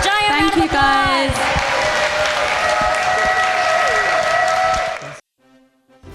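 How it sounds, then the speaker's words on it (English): A crowd at a comic con panel for The Expanse bursts into loud, sustained applause with cheers and whoops, a few voices shouting over the clapping before it cuts off abruptly to near silence. "let's give them one more giant round of applause"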